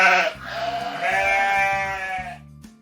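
A sheep bleats in one long, wavering, close-up cry that holds steady and then tails off, with a low rhythmic background pulse underneath and no speech.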